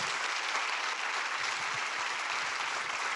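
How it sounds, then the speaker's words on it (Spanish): Congregation at a church service applauding God for a miracle: a sustained, dense roar of many hands clapping, even and unbroken from start to end, heard at some distance and moderately loud. "Si le va a aplaudir a Dios por ese milagro, yo creo que hay que aplaudirle más fuerte."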